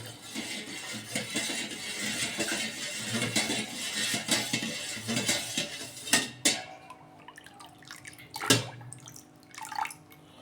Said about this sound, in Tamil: ஊற்றி நல்லா கலங்க